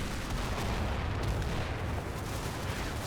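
Artillery barrage in the WWII wargame Combat Mission: Battle for Normandy, near the Odon bridges, heard as a dense continuous rumble of overlapping booms and gunfire, heavy and unbroken throughout with no talking.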